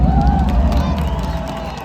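A large festival crowd roars and cheers continuously for Käärijä at Summer Start Festival, a dense wash of voices with clapping mixed in, loud and close.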